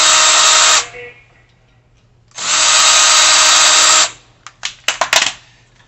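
A cordless power driver backs two screws out of the control knob on a Char-Broil Performance Series four-burner gas grill, giving two steady, loud whirring bursts, each about two seconds long, followed by quick clicks and rattles.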